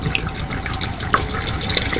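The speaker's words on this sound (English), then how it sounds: "The water's going straight into your wastewater, which is underneath." Water runs steadily from the sink tap of a 1994 Autosleeper Omega motorhome and drains straight into the wastewater tank below. It makes a continuous close splashing hiss with no voices.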